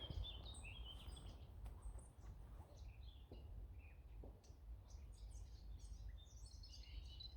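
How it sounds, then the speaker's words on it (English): Birds chirp and twitter intermittently in the distance in woodland over a low outdoor rumble, several small calls scattered throughout. "just listen to birdsong"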